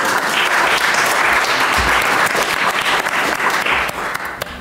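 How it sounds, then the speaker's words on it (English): A festival audience at Sheffield Doc/Fest 2015 applauds to welcome a panel: loud, dense clapping from a full room, sustained throughout and tapering off slightly in the final second. "a big round of applause to welcome our panel"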